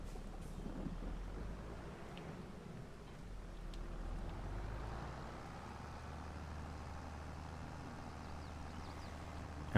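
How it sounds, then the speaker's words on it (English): A tractor in Farming Simulator 22 hauls a wide-winged stone picker, giving off a steady low engine drone and rumble that holds at an even level throughout. "This tractor has more than enough horsepower to be able to pull this."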